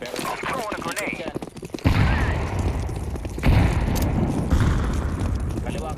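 Grenade blast and bursts of gunfire in a first-person shooter game, a loud boom landing mid-clip and another a little later, with rattling shots and game noise continuing, while players talk over it.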